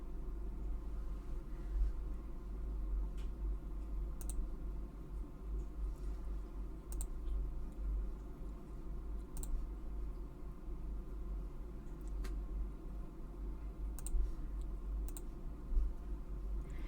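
Sparse computer mouse clicks sound while working in the Pixlr web image editor, a handful of sharp, faint clicks spaced irregularly over a low steady hum, with no talk.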